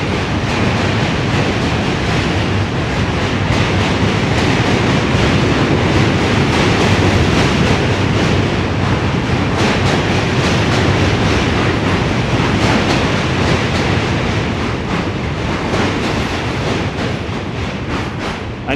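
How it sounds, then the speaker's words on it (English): A 96th Street-bound Q subway train rumbles past on the Manhattan Bridge, a loud, steady roar of wheels and rail noise with rhythmic clatter that holds alone for the whole stretch. "A 96th Street bound Q train just passed us."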